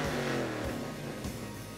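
A Chevrolet Camaro race car engine revs hard and continuously, its pitch rising and dipping through short surges at moderate distance, with no voices over it.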